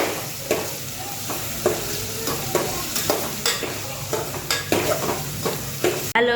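Okra curry (bhindi shaak) stir-fries in a pan at home, a constant loud sizzle broken by regular scraping strokes of a spatula against the metal, with no talking.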